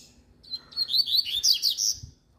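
A coleiro, or double-collared seedeater, sings a fast, bright warbling phrase of rapid chirps and trills, close and clear against a quiet background for about two seconds.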